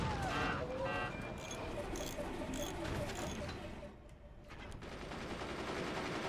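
Mortars in the Forts strategy game fire in a rapid mechanical rattle of repeated shots, moderately loud and continuous, with a brief dip before the barrage picks back up.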